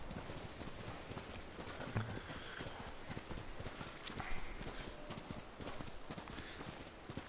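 Rhythmic hoofbeats of a video game horse in Ghost of Tsushima clip-clopping at a steady pace, fairly close, with faint background ambience.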